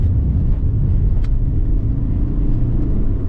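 A Rover Streetwise 2.0 turbo diesel car driven round a roundabout, heard from inside as a steady, loud low engine and road rumble with no change in pace.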